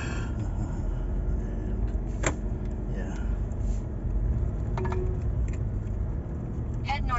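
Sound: car driving in Mactan, Lapu-Lapu City

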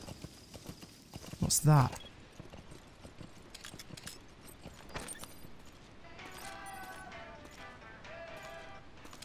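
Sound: horse hooves clip-clopping in Metal Gear Solid V video game

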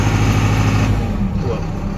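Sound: MTZ tractor engine running, heard inside closed cab

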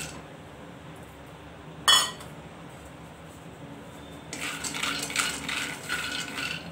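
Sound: scooping roasted sabudana out of the pan

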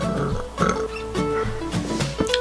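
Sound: burp

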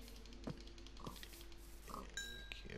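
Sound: pig oinking in the video game Minecraft

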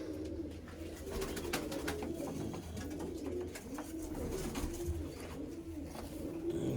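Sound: pigeons cooing while feeding

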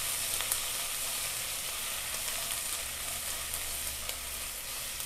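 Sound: chopped onion frying and being stirred in a pan

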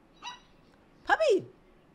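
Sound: puppy barking and whimpering

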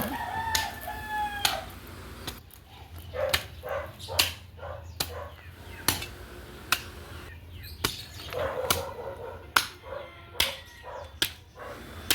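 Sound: roosters crowing

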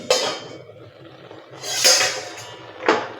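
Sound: lid being removed from a cooking pot

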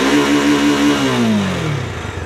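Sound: Bajaj Dominar 400 motorcycle engine revving to the rev limiter

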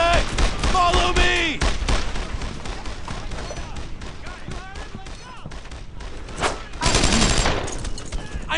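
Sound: gunfire in video game Brothers in Arms: Earned in Blood

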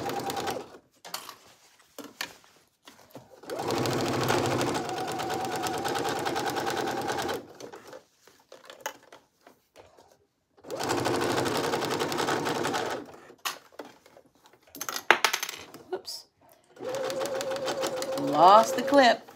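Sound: sewing machine stitching a dress seam with backstitch

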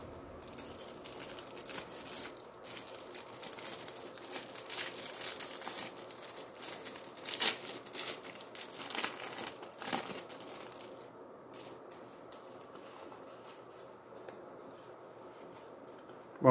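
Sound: opening a Dragon Ball GT trading card pack wrapper

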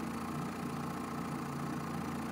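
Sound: Evinrude E-tec 50 hp outboard engine idling in gear

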